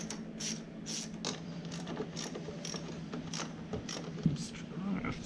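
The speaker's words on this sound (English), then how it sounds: "I have to do this with a wrench." A ratchet wrench clicks in quick, repeated bursts while turning bolts on a drive shaft cover during a 129-inch rail installation, close and fairly quiet, with faint background hum.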